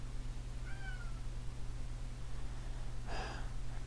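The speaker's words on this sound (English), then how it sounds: "I'll let you out in a minute, cat." A pet cat gives a single faint meow indoors, followed by a short breathy sound, over a steady low electrical hum with no talking.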